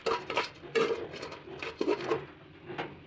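A lid set onto a cooking pot of crab: a series of clattering metal knocks and scrapes, close and moderately loud, with no talk.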